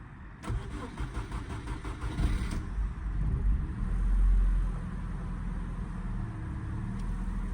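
A Ford 100e, left standing through harsh cold weather, cranks on its starter for about two seconds, then catches and settles into a steady, rough idle, heard close up with no talking.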